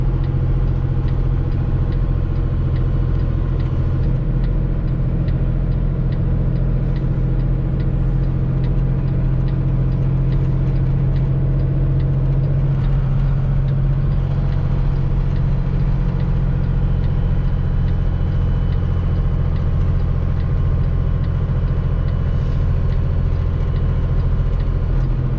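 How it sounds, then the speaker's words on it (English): A truck descending a downhill grade on I-8 with its Jake brake engaged gives a loud, steady low engine rumble that drones on evenly throughout. "The thing that really sucks right now with the Jake brake, one setting is too much, the other setting is not enough"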